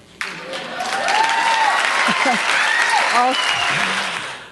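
An audience breaks into loud, sustained applause that starts abruptly and fills the room, with voices rising over the clapping.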